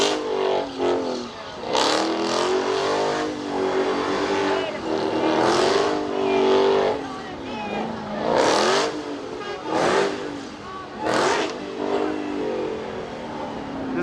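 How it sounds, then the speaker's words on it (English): Muscle car doing a rolling burnout at a Mopar burnout contest, the Chrysler Nationals in Carlisle, PA, its engine revving hard in repeated surges over a steady roar, loud and close. "So the rolling burnout into the donut area"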